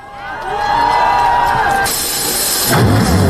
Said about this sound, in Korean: 큰 함성과 박수 부탁드립니다.